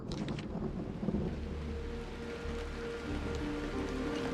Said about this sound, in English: They really did summon the rain.